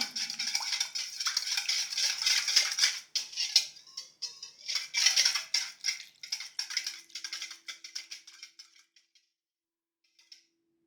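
A utensil scrapes and clinks quickly against a bowl, mixing yeast, butter and egg for cinnamon roll dough. The rapid stirring sounds close, then tapers to a few faint taps and silence.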